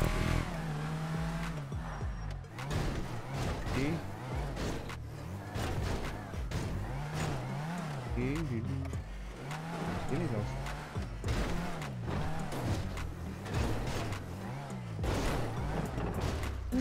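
A Grotti Brioso, an older small car in GTA 5, drives along with a fluctuating engine hum, bumps and thuds, while a voice talks over it throughout.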